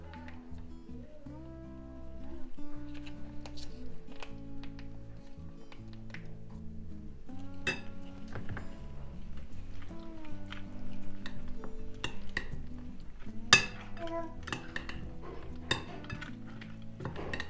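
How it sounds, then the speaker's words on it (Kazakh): A corn salad being stirred with a spoon in a bowl, soft scraping and occasional clinks of metal on dish under quiet background music, one sharper clink standing out. "Осыны араластырып көреміз."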